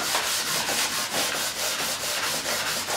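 Sandpaper rubbing along the neck of an Ibanez Roadstar II RG200 guitar, a close, steady series of rhythmic back-and-forth scrubbing strokes repeating roughly every quarter second, alone without speech.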